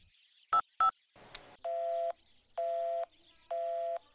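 A telephone dials a number: two short keypad tones, a brief burst of noise, then three long steady tones repeating at even intervals while the call fails to ring through, faint and alone with no talking.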